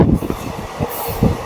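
A passenger train runs along its tracks near Kasapuram, loud and close, with rhythmic clickety-clack wheel beats over a steady rumble.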